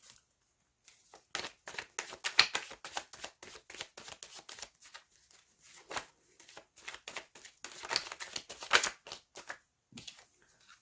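A deck of tarot cards is shuffled by hand close up, giving rapid crisp riffles and flicks in irregular bursts with short pauses between them.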